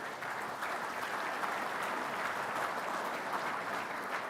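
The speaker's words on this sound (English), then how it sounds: "Let's get a round of applause from these guys" Continuous applause from a conference audience greeting federal firefighters at a union legislative gathering, moderately distant and even, with no talk over it.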